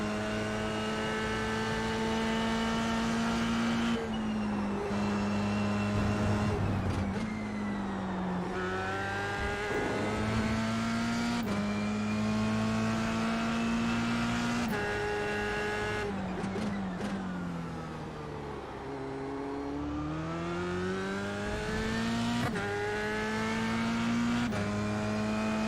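Formula 3 race car engine screaming around Suzuka at night in iRacing, a loud, close, high-pitched whine rising through the gears with sharp drops at each shift and braking, running continuously with no talk.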